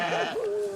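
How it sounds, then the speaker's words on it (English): A single sheep bleats nearby, one short wavering call lasting under a second, near a controlled burn in dry countryside. "There's the sheep."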